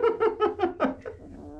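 A Komondor puppy, about twenty days old, lets out a quick run of five or six soft, high, mewing yelps in a rhythmic series, close by, the last ones trailing off quieter.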